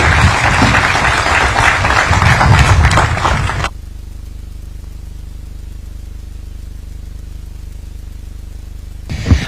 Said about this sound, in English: Another round of applause for His Excellency, the President of this great nation, Dr. William Samoei Ruto.